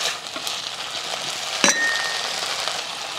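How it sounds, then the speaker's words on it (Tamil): Mint leaves and tamarind sauté in a clay pot, giving a steady close sizzle and crackle, broken once by a sharp metallic clink of a utensil. "சின்ன சைஸ் புளி அதையும் போட்டு வதக்கி விட்டுருவோம்"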